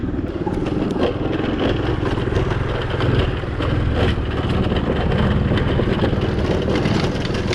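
A motor scooter rides along a road in Nepal on the way to a workshop, its engine droning steadily and loudly throughout with wind and road rumble, with no talk.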